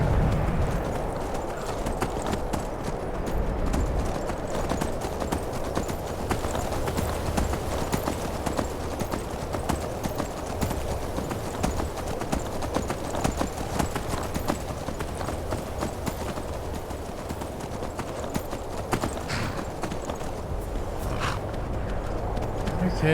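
Steady clip-clop of horse hooves in the video game Skyrim, a continuous rhythmic trot running close and clear throughout with a voice talking over it now and then.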